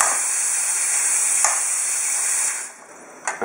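A homemade dual boiler espresso machine fills its steam boiler with a steady, close hissing rush of water and steam that drops off near the end before a short burst returns.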